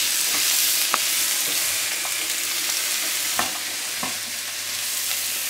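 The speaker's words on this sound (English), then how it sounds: "Just frying the veg. Bit of sausage." Vegetables and sausage frying in a pan, a steady close sizzle with a few sharp clicks and scrapes of stirring scattered throughout, no voices.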